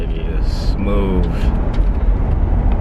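A 1984 Pontiac Parisienne rolls through the hills with a steady low engine and road rumble throughout, while people talk briefly over it.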